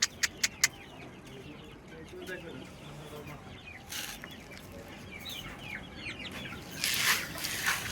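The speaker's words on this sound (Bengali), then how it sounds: "এই যে আমার ঘরের প্রথম মোরগ লক্ষ্মী" A rooster named Prince, kept at home, clucks in short, soft, fairly close bursts. Several sharp knocks come at the start, and there is brighter outdoor noise near the end.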